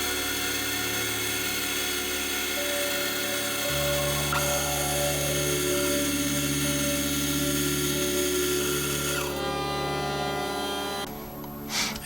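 Steady machine whine of a drill on a milling setup boring a row of holes around a rotary table for a filter cover, continuous and loud with a pitch shift partway, winding down at the end.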